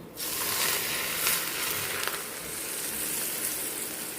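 Hot sesame oil is poured onto a chilli and garlic mix and bursts into a loud, close, hissing sizzle that starts abruptly and holds steady for several seconds, easing slightly toward the end.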